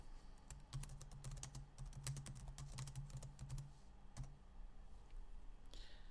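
Rapid clicks of typing on a computer keyboard come in a quick irregular run, fairly faint and close, then slow to a few scattered keystrokes.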